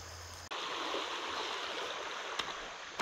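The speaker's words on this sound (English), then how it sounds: "That's where all the running water's coming from." A stream of running water flows in the wild hills along Virginia's Blue Ridge Parkway, a close, continuous babbling rush that holds even from start to finish after a brief cut in.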